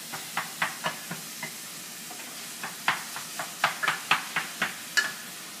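Grass-fed ground beef frying in a pan for bolognese, a steady soft sizzle broken by a series of sharp spatula scrapes and taps, about a dozen, close and clear with no talking.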